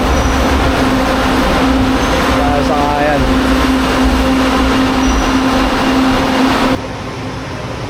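A train's loud, steady rumble and hiss fills an LRT station in Manila, with a brief voice speaking over it before the noise suddenly drops off near the end.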